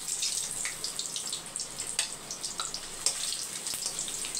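A large piece of ginger fries in hot sesame oil, giving a steady, moderately quiet crackling sizzle with scattered small pops and spits throughout, heard alone without talk.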